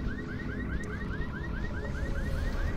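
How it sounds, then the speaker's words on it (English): A car alarm in a video game sounds a rapid repeating electronic whoop-like chirp, steady and fairly loud over a dense rumbling game background, with no talk. "Will the car alarm get you unstuck?"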